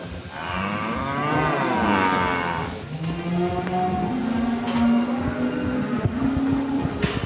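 Dairy cows mooing inside a dairy barn, several long low moos one after another, near and loud over steady barn background noise.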